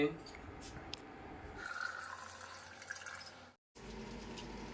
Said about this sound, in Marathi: आता मॅगी वापरलेली आहे तर थोडस पाणी काढून टाकतो मी लवकर